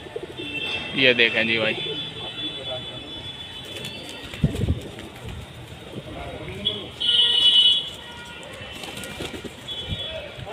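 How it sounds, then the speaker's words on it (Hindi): A black Mahdoom pigeon coos softly among other birds in a loft, with repeated low cooing under someone talking nearby and a few sharper chirps and calls around it. "ये देख महदूम कबूतर है भाई काला बटे महदूम"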